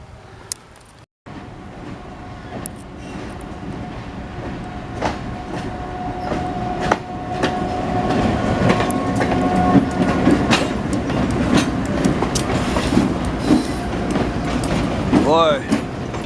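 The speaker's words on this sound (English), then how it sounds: "Had to get off the tracks quick because the train's coming." A train rolls past on the tracks at an abandoned railroad roundhouse, picking up speed, with a building rumble, clattering wheels and occasional metallic squeals, loud and close, with talk mixed in.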